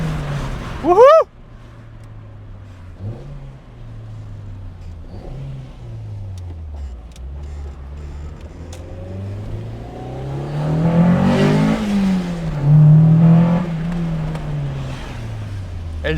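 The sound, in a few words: Honda Civic with B16 VTEC swap, loud engine intake noise accelerating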